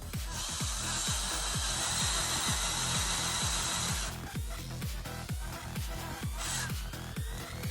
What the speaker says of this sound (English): So I'm going to drill and you want to try to get it as straight as possible.